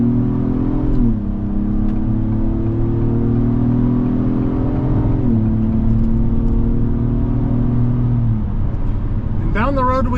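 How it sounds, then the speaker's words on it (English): A 2024 Acura MDX A-Spec accelerates with its 10-speed automatic, the engine drone rising steadily and dropping at each of three clear upshifts, heard from inside the cabin as a smooth, constant hum. "Nice shifts out of this 10-speed automatic. No problem getting this vehicle up to speed."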